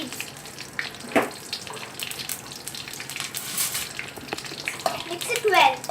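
Cumin seeds dropped into hot oil and butter in a pan crackle and sizzle close up in a home kitchen, with light stirring clinks, and a voice speaks briefly.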